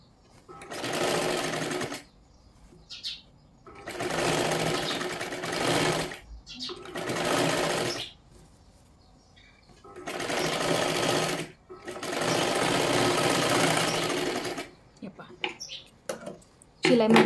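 A sewing machine double-stitches a katori blouse in several whirring bursts of a few seconds each, close and steady, with short pauses between runs where someone speaks.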